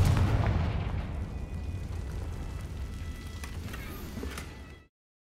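Confringo fire spell explosion in the Hogwarts Legacy video game: a loud, close blast that roars on as a dense rumbling burst for nearly five seconds, then cuts off abruptly.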